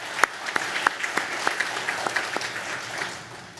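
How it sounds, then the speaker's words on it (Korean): Church congregation gives the choir a short, sparse round of applause, distinct individual claps at a moderate distance, thinning out over a few seconds. "박수 한번 보내주시기 바랍니다"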